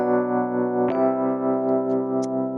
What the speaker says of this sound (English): So this is the sound of me sort of teleporting into the room.